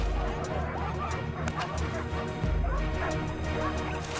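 Hunting dogs on a wild pig hunt bark and yip repeatedly at close range, in busy overlapping bursts with whimpers and thumping crashes, over a noisy outdoor scene.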